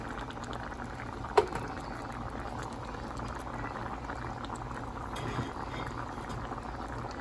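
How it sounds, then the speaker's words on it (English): Water boils gently in a cooking pot with cabbage, a steady low bubbling and simmering close by, marked by one brief sharp click early on. "it's been boiling for a couple minutes. Not full blown, but it's boiling."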